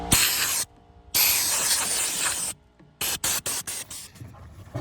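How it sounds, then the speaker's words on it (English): Compressed air blasts dirt off the top of a fuel pump on a 2018 Toyota Yaris iA, loud hissing bursts, two long sprays followed by a rapid series of short puffs, close by. "I'm gonna use some compressed air. I'm gonna blow the dirt out of here."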